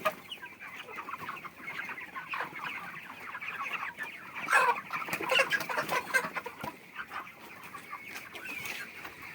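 Chickens on a poultry farm, birds about forty days old, cluck and murmur steadily in a dense flock chorus, with a louder burst of nearby calls in the middle.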